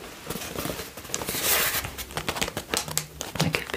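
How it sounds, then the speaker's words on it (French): Tissue paper crinkles and rustles up close as a Getahug teddy bear is unwrapped, with quick crackling bursts and soft patter from handling, and no voices. "Avec ce petit papier de soie"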